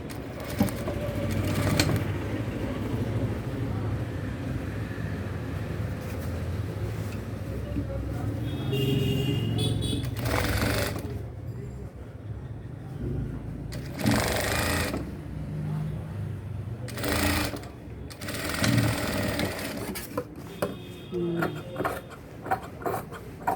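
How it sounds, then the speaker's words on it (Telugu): A sewing machine stitches the second side of a saree or dress in bursts of rapid mechanical chatter, close and steady, with a person talking over much of it and brief pauses between runs. "వన్ సైడ్ ఒకటి పైనుంచి చేస్తే రెండోది కింద నుంచి స్టిచ్చింగ్ చేస్తున్నాడు."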